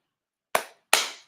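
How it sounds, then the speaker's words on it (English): A church congregation gives two sharp, loud claps in unison, evenly spaced less than half a second apart, each ringing briefly in the room. "Somebody said 2 claps and a woo."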